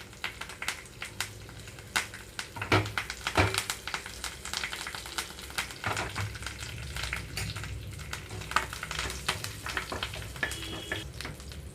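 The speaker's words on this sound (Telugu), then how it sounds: "ఆయిల్ వేడయ్యాక ఆవాలు ఒక హాఫ్ స్పూన్ వరకు అలాగే జీలకర్ర ఒక హాఫ్ స్పూన్ వరకు వేస్తున్నాను కొద్దిగా కరివేపాకు రెమ్మలు వేస్తున్నాను" Mustard seeds, cumin and curry leaves crackle and sizzle in hot oil for a Telugu bottle gourd chutney tempering, with dense close spattering, several sharper popping bursts and an occasional stir, and no voices.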